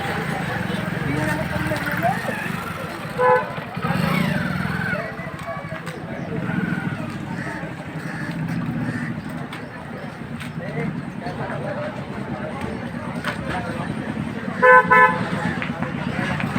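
Busy road traffic in the rain at Wakipada Kajuplot, Maharashtra, with a steady wash of passing cars and a couple of short horn toots near the start and end, while voices talk over it.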